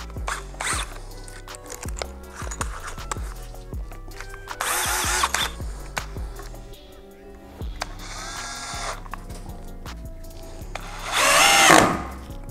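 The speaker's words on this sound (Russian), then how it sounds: "Соответственно, перейдем мы сразу к сверлению." A Ryobi RAD18C cordless angle drill whirs in short bursts between clicks and handling noises, with a louder grinding burst near the end, close by.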